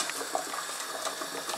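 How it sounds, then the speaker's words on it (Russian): A glass jar and its lid boiling in a pot of water for canning make a faint, close bubbling and sputtering with small pops over a soft hiss. Nobody speaks. "Я кипячу баночку 10 минут и вместе с крышечкой кипячу."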